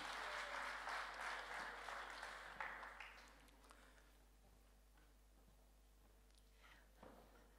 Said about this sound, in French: On applaudit aussi les plus grands.